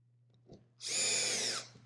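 A power drill drives the provided screws into a light fixture mounting, making one short, high whirring burst of about a second that starts after a faint click and then stops.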